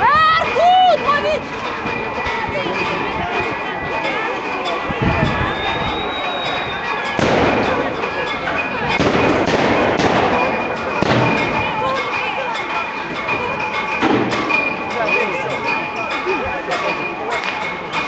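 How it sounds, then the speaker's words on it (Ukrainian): Sharp gunshots ring out intermittently amid a noisy protest crowd on Instytutska Street in Kyiv, some shots close and loud, others more distant, with shouting voices throughout. "Будь обережно, тут вони стріляють кулями."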